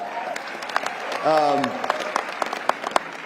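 Crowd at the CPAC conference applauding, steady dense clapping throughout with a cheer or whoop rising briefly in the middle.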